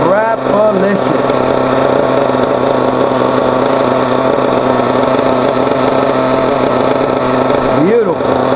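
A Team Associated RB big block nitro engine for a radio-controlled model runs during break-in, a loud, continuous, high-pitched buzzing drone with quick throttle blips near the start and end, someone talking over it throughout.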